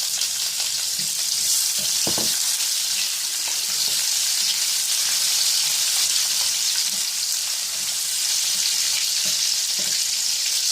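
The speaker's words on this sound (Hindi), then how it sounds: "और अब मैं इसके अंदर ऑनियन ऐड कर रही हूँ।" Chopped onions sizzle and fry steadily in hot oil in a pan, a loud continuous hiss with occasional soft stirring clicks, close by, for a chicken tikka pulao.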